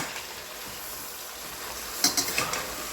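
Lamb frying in a pan with onion, garlic and salt, a steady close sizzle with a few sharp utensil scrapes and clinks as the meat is turned near the end.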